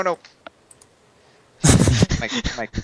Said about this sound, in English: the cat just decided he wanted to put his paw on the keyboard